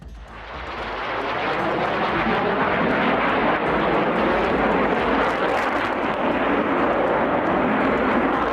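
A jet airplane crashing at an air show, heard as a loud, sustained roaring rumble that swells in the first second and then holds steady, filling the whole clip with no speech.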